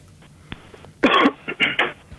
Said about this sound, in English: I said you coughed properly to clear your throat